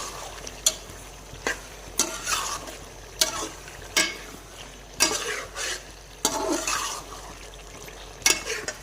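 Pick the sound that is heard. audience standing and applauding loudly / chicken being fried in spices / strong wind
chicken being fried in spices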